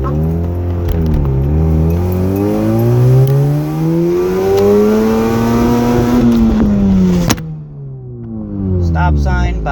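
Mazda RX8 with a random fuel cut and misfire pulling out of a driveway and accelerating, its close engine note sweeping upward in pitch through rising revs, dipping sharply near the end, then climbing again.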